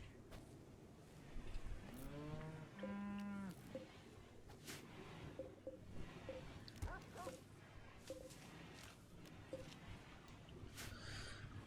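Cattle mooing in the colony game RimWorld, with two drawn-out moos close together early on and quieter game sounds and clicks afterward, all at low volume.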